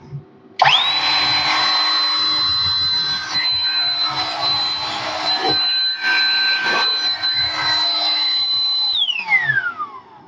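An Einhell CE-AP 18 Li-Solo cordless air blower spins up with a rising whine and a sharp steady tone, holds a loud, close rushing roar for about eight seconds, then powers down as the pitch falls away.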